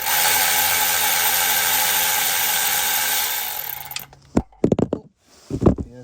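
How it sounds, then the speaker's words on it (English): A power wrench removes a 10mm bolt on a 1978 Chevrolet Caprice Classic. It whirs steadily for about four seconds, then stops, followed by a few sharp clanks and rattles of metal, all close up. "Let's see if my automatic power wrench will get this out."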